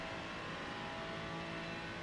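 Race car engine in a racing video game at Watkins Glen, a steady sustained drone at a fairly low level throughout, with no talk over it.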